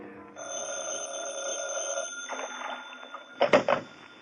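An old-fashioned telephone bell rings in an old time radio detective drama, a sustained metallic ring followed by shorter bursts, clear against faint background music.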